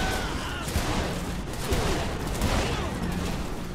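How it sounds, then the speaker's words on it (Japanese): Gunfire rains down from above in Saints Row: The Third, a dense fusillade of overlapping shots and bursts that keeps up without pause at a loud, steady level. "お、上から撃ってる。"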